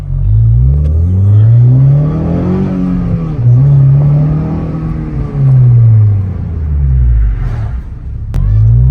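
Close, loud engine drone of a 9th-generation Honda Civic Si with a big brake kit, rising and falling as it speeds up and slows down repeatedly during light brake bedding.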